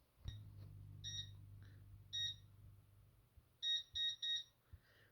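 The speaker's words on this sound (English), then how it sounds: "at the end of each arming period, you may notice there's a 2 or 3 beep" A Concord 4 home security system sounds its arming beeps: a single beep, then another, then a quick run of three close together, clear and alone over a low steady hum.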